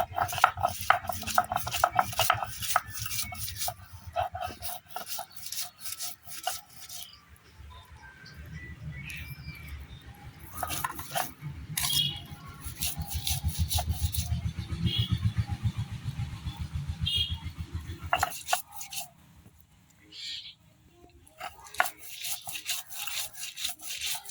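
Fried dried fish and garlic are ground together by hand into a spicy village-style shutki bhorta, giving repeated rough scraping and rubbing strokes in uneven bursts, close and fairly steady, with a few brief pauses.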